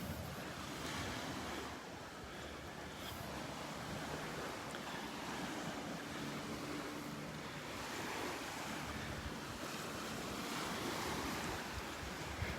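Surf breaking on the beach at Delnor-Wiggins, a steady wash of waves rolling in continuously with wind buffeting the microphone, no voices.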